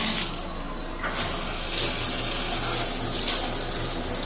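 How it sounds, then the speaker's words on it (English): A hotel shower tap in a renovated Buena Park room gushes at full pressure, a loud, steady hiss of spraying water close by that never lets up. "Let's test the water pressure."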